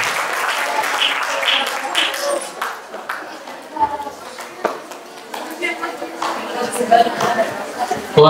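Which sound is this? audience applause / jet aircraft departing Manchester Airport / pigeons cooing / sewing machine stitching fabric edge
audience applause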